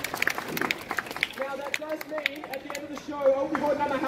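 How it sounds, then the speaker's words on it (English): A street show crowd in Melbourne claps for a juggler, a loose patter of hands under a voice that keeps talking over it, with the clapping fading as he continues. "Give yourselves a round of applause,"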